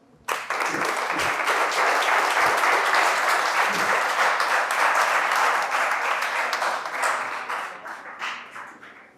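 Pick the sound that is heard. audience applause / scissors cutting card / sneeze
audience applause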